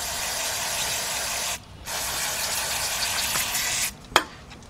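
Carburetor cleaner sprayed from an aerosol can onto a rag during a 2006 Kia Sportage 2.7 engine job: two long continuous hissing bursts separated by a brief pause, close and loud, ending with a sharp click.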